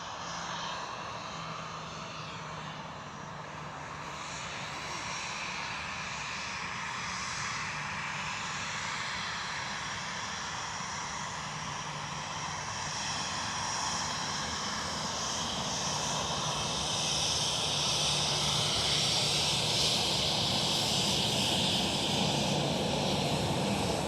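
A KLM Boeing 737 at Amsterdam Schiphol gives off a sustained jet engine roar with a whining upper edge, steadily growing louder as it draws nearer over about twenty seconds.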